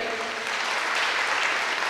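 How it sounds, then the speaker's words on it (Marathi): A seminar audience on diet and health applauds the speakers, a dietitian among them, with a dense, steady wash of many hands clapping together throughout. "सगळ्यांतर्फे एकदा जोरदार टाळ्या होऊन जाऊ देत"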